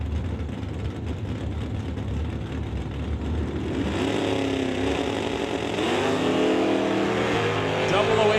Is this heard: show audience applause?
no